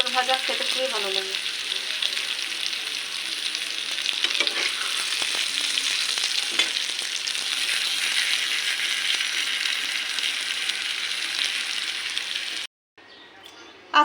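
Sliced pointed gourd (potol) fries in a pan, giving a steady close hiss of oil that runs unbroken for most of the clip before cutting out near the end.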